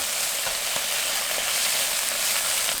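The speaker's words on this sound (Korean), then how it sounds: "간장이 끓으면 섞어주세요" Soy sauce sizzles loudly in a pan while tuna egg fried rice is stir-fried in tuna oil with a spoon of cooking oil, a steady close crackling hiss with occasional soft scrapes of stirring.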